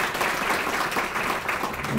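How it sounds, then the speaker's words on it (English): A round of applause at a leadership alumni luncheon in Columbia: a steady, moderately distant patter of many hands clapping throughout the short stretch, with faint voices underneath. "Another round of applause for Teresa Wilson."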